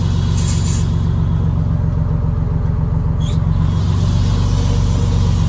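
A 1973 American LaFrance Pioneer fire truck idles with a loud, steady low diesel rumble as the clutch is let out and it begins to pull off, with a brief hiss near the middle.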